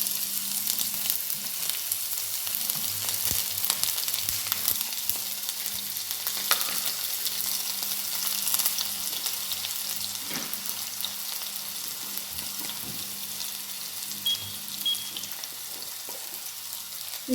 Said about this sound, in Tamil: எண்ணெய் காஞ்சிட்டுது. தேவையான வெங்காயத்தை போடுவோம்.